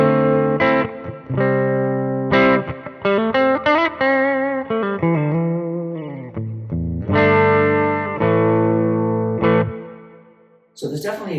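Schecter MV6 electric guitar with both pickups in series for a humbucker tone, played with effects and distortion: a run of loud sustained notes and chords with pauses, ending in a brief bright scrape.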